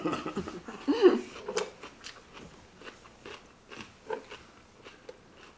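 Large yellowtail sashimi being eaten raw at a late-night home meal, with close, wet biting and chewing sounds in an uneven rhythm and a louder burst near the start, under faint background talk.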